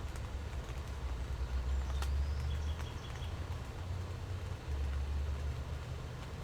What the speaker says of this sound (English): There's the roar of traffic in the distance